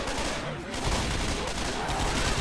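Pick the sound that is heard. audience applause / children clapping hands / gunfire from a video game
gunfire from a video game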